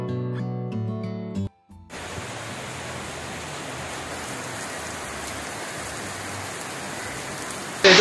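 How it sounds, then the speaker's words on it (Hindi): Heavy monsoon rain pours down in Ahmedabad. It starts as a dense, steady roar of falling water after a brief muffled moment, then holds evenly, loud and close, with no voices. "तो धीरे धीरे बारिश बढ़ रही है"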